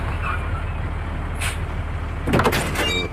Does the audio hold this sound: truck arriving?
yes